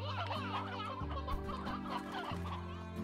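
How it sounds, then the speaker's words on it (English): Briar hens in the video game Slime Rancher cluck in a busy, continuous flock chatter, with repeated clucks layered over a steady low game-world hum and no speech. "that looks like a briar hen"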